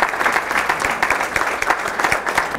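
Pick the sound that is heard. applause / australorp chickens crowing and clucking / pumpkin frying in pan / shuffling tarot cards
applause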